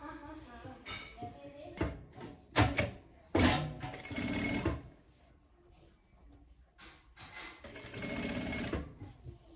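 A sewing machine runs in close bursts, stitching the finished edge along the side of a hooded bath towel, with short pauses and handling clatter between runs.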